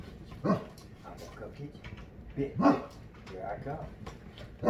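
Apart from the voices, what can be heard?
dog barking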